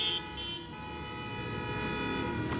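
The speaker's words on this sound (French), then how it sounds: "désolé pour les klaxons" A car horn honks faintly amid steady street traffic hum, with a short sharper toot near the end, distant and low in level, no one speaking.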